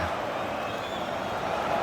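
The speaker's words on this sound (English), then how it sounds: "You can hear the annoyance in the crowd." Football crowd in a simulated Premier League match between Arsenal and Everton, a steady dense murmur of annoyed spectators, broad and continuous with no distinct cheers.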